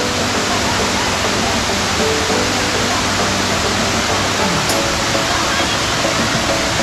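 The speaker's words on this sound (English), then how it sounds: "You want to go to the waterfall?" Rutledge Falls, a waterfall, roars in a loud, constant broadband rush of falling water that fills the whole stretch without pause, heard up close.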